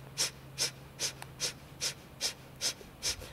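Breath of fire, rapid yoga breathing: eight sharp, evenly spaced nasal exhalations about every 0.4 seconds, close and clear over a quiet room hum.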